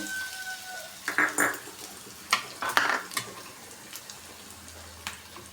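Dry red chilies drop into hot oil in a pan, giving soft crackling sizzles in short bursts with occasional stirring clinks against the pot, fairly quiet and close.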